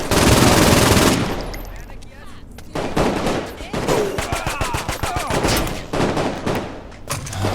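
A new gun in the video game Saints Row IV fires loud, rapid automatic bursts, with dense rattling shots following one another close up for several seconds.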